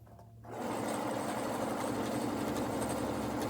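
A PFAFF Creative Ambition 640 sewing machine fitted with an embroidery foot starts up after a short quiet moment, then runs in a steady, fast, close mechanical whir while free-motion stitching.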